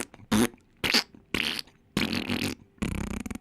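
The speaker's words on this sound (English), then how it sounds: "That fart sounded wet" Several wet, sputtering fart-like bursts in a row, loud and close, with short pauses between them and no talk.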